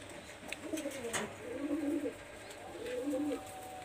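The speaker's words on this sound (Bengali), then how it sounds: "এই দেখেন এক পেয়ার কবুতর আমি দেখাচ্ছি" Pakistani highflyer pigeons coo in a few low, soft, rolling phrases at close range, with faint chirps and background noise around them and no voices.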